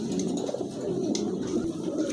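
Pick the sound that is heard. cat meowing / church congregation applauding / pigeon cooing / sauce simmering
pigeon cooing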